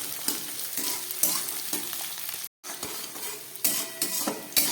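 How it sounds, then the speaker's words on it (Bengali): Cauliflower pieces frying in a pan, a constant close sizzle broken by repeated clinks and scrapes of a spatula stirring against the metal, with one brief gap. "ফুলকপিটা একটু ভেজে নিই, তারপরে অন্যান্য সবজিগুলো সব দেবো।"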